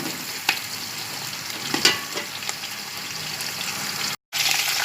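Onions sizzle in a pot for vegetable pulao with a steady, close frying hiss and a few sharp crackles and stirring clicks. Near the end the sound cuts out briefly.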